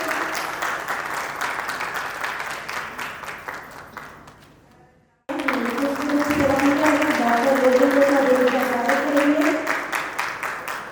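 A crowd at a theatre festival applauds steadily, the clapping fades briefly to near silence, then resumes strongly with a voice audible over it.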